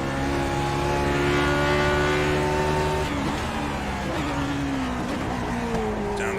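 A Lotus 49 race car engine in iRacing at Zandvoort holds a loud, steady high-revving howl that drops in pitch through downshifts under braking.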